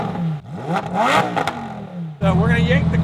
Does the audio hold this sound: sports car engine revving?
yes